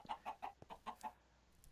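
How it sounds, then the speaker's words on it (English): A chicken in a sandbox video game clucks in a quick series of six or so short, nasal calls, close and fairly quiet, with no talk over it. "Chicken's in the way."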